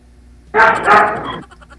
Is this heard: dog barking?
yes